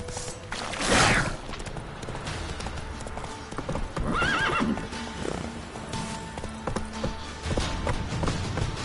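A horse in The Witcher 3 video game clip-clops at a gallop and lets out whinnies near the start and middle, with steady hoofbeats running throughout at close range.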